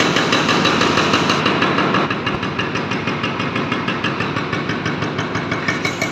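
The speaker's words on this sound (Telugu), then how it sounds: "ఆ రాయి మొత్తం పలకొడుతున్నారు" A machine breaks up the rock ballast under railway tracks during track work in Anantapur. Its engine drones loudly and steadily while an evenly spaced pounding repeats about three times a second, continuous and close.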